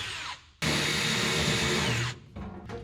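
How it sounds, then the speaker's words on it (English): A power drill bores a hole into the body of a 1967 Scout, a steady high whine running about a second and a half, framed by brief spin-up and spin-down sounds, close and alone without talk. "We're gonna drill a hole right there and hope we hit center"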